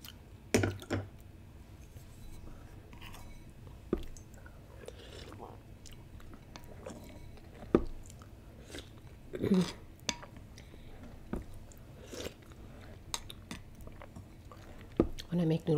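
Close-up chewing and slurping of noodles, with soft wet mouth sounds, occasional utensil clinks and brief murmured talk in between.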